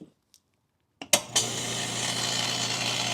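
A quiet air compressor clicks on and settles into a steady, even running hum after a couple of brief knocks, near and alone, used to fill a flat tire on a budget project car.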